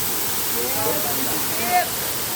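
A waterfall sends up a steady, hissing roar of rushing water that fills the whole clip, with faint voices and brief human sounds riding on top.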